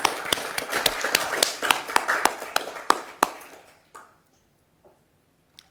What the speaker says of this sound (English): Can we give her a round of applause, councillors?